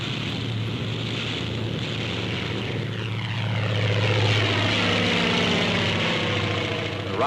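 A Hawker Typhoon fighter drones overhead, its propeller engine a steady, loud roar that swells and shifts in pitch as it passes, with no voices.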